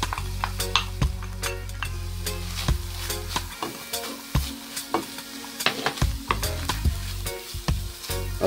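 Onion and garlic sizzling in a hot pan alongside tuna flakes, a close crackling fry with repeated scraping stirs and clinks of a utensil against the pan.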